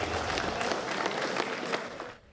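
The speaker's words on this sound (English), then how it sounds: "Please give a round of applause for Rigo." At a rugby league awards night for the Vipers, an audience claps for a player in a dense, fairly loud burst with distinct hand claps, tapering off abruptly near the end.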